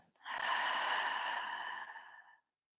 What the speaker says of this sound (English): open your mouth just a bit and let the breath out